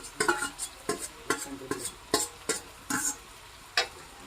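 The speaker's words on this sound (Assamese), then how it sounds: "এতিয়া ইয়াতে মেৰিনেট কৰি থোৱা মাংসখিনি যোগ কৰি দিছে।" Marinated local chicken tips into a pan of frying onion, ginger, garlic and tomato, giving a run of sharp, close clatters and scrapes over a low sizzle, spaced irregularly about every half second.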